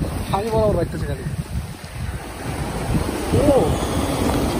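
Ocean waves breaking at a beach in the afternoon, a continuous rushing surf with wind buffeting the microphone, while people talk briefly over it.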